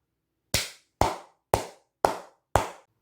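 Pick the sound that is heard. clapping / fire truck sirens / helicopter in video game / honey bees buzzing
clapping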